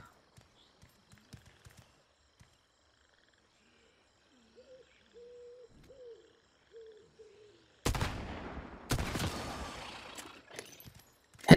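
Gunfire in a shooting video game, a quiet stretch with faint taps and a brief voice, then several loud, sharp bursts of shots in quick succession near the end.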